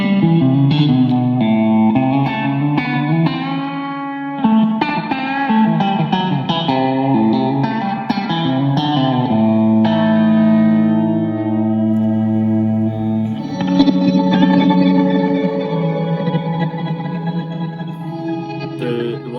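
An electric guitar played through a Victory V40 amp in a stereo setup rings out with lush chorus, echo and reverb, its layered chords and melodic lines running continuously and fairly loud.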